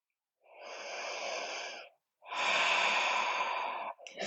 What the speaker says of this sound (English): Exhale from the chest, the rib cage and the belly, deepen into your asana. This is the complete breath or Raja Pranayama.